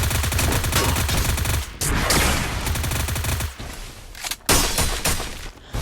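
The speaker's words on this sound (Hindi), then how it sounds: "यहाँ पे एकदम से प्लेयर आता है और मैं फायर" Sustained, dense AN94 assault rifle fire in a battle royale video game, loud and continuous with overlapping bursts and brief pauses, crackling impacts mixed in, no voices.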